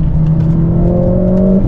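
Mercedes CLA45S AMG with a four-cylinder engine driving and accelerating, a steady engine drone rising in pitch over a brief stretch, heard close from inside the car with no talking.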